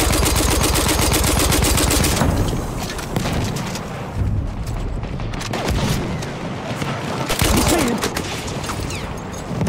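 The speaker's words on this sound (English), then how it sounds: "Spotted a machine gun!" Battlefield 1 machine gun fire on the Zeebrugge map, with dense rattling bursts loud at the start and returning later among booms and clatter, while voices call out over the battle.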